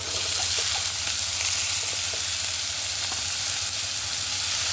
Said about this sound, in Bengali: এগুলোকেও ভালো করে ভেজে নেব।